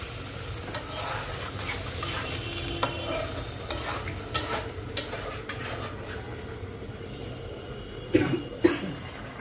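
A person coughs and clears their throat from the fumes of dry chili frying in a home kitchen, several short bursts near the end over a steady sizzle and stirring.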